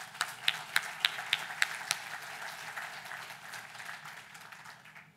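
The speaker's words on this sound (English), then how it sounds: "we want to give them a great round of applause" At a startup anniversary celebration, a handful of sharp, distinct claps ring out near the start, then thin into a soft, scattered patter that fades away in a quiet room.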